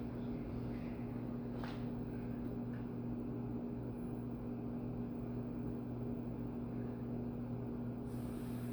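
A Casablanca Delta I ceiling fan with brown cane blades runs steadily on a three-speed setting, giving a constant low motor hum with a faint airy whoosh that holds unchanged throughout.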